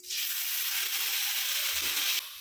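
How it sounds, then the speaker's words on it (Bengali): Well-roasted garam masala tipped into hot ghee for basanti pulao made with gobindobhog rice, giving a brief, even hiss of frying that holds for about two seconds and then cuts off. "গরম মশলাটা ভালো করে ভেজে নিয়েছি, ঘিয়ের মধ্যে দিয়ে দিচ্ছি।"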